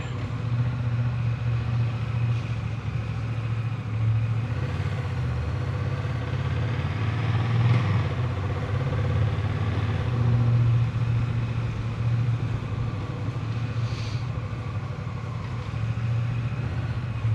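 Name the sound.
motorcycle engine on a ride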